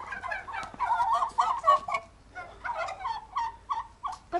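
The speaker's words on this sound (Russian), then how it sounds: "индюки выросли, не выросли." Turkeys on a farm gobble in repeated, fairly close bursts, several rapid warbling calls overlapping in the first half, then shorter separate gobbles, with no talk.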